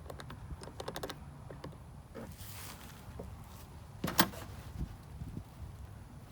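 A key-locked rear rack storage box with locks on each side being unlocked and opened: light scattered clicks and handling, then a sharper latch clatter near the middle, close by.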